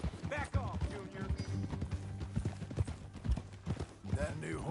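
Horse hooves clip-clop at a steady walking rhythm on a ranch, fairly close, under continuous conversation between several people.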